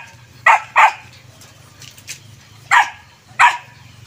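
A dog barks four times, sharp and fairly close: two quick barks, a pause, then two more spaced apart, over a low background hum.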